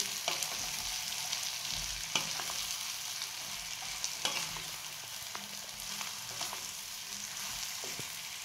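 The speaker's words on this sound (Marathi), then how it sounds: "आता हे पण मिक्स करायचं आता छानपैकी" Eggplant masala sizzles steadily in a pan while being stirred, a quiet, even frying hiss broken by occasional sharp scraping clicks of the spoon against the pan.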